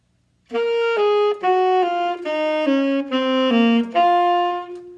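A solo alto saxophone plays a short melodic line of separated eighth notes at a moderate pace, clear and close, with no other instruments, from "Star Wars: The Force Awakens".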